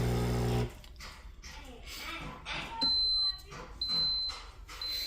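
A few short, high electronic beeps ring out, each a steady thin tone, over background noise and some talking.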